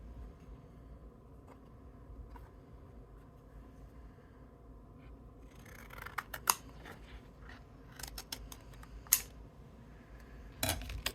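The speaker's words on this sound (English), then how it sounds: "I'm going to cut it into pieces." Scissors snipping through die-cut paper pieces for a flower card, several sharp quiet clips and rustles in the second half after a stretch of low background hum, close by and without talk.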